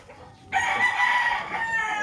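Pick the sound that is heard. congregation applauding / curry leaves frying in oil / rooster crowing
rooster crowing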